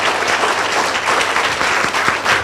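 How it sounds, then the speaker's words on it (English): Sustained applause from a forum audience in Jakarta, dense and steady clapping filling the room at close range for its full length, with no voices standing out. "Please give a big applause to Professor Tagliacozzo"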